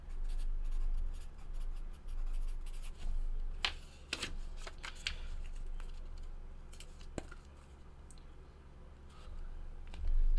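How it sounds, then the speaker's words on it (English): Pen scratching over paper in quick, irregular strokes, fairly close and steady at low volume, with a few sharper ticks and a faint low background hum. "Write these down."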